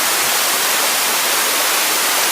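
Roar of the Uçan Su waterfall above the King's pool, a loud, steady broadband rush of falling water filling the whole moment without a break.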